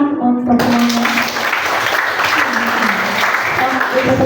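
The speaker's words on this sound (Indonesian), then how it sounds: "silahkan tepuk tangan untuk semuanya" A group applauds at the close of a classroom mathematics group presentation, clapping loud and steady throughout while a voice talks over it.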